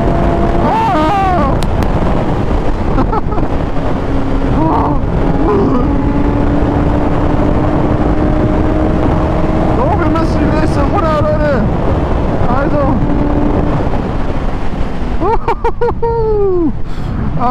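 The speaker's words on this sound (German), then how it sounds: "Ach, heute ist es irgendwie windig, ey." Strong, steady wind roar buffets the microphone while riding a Kawasaki Z1000 motorcycle, with the engine droning underneath and someone talking at intervals.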